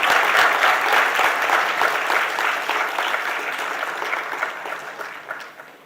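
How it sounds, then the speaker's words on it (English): A large audience at a university foundation day ceremony applauds the chief guest with dense, steady clapping that fills the hall and tapers slightly toward the end. "A round of applause to our chief guest."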